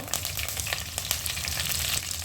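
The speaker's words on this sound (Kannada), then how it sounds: "ಈಗ ಒಣಮೆಣ್ಸಿನ್ಕಾಯಿ ಹಾಕ್ತಾಯಿದ್ದೀನಿ. 1-2 ಕಡ್ಡಿ ಕರ್ಬೇವಿನ ಸೊಪ್ಪು" Dried red chillies and curry leaves frying in hot oil, giving a dense, crackling sizzle with rapid popping bursts that stays close and loud throughout.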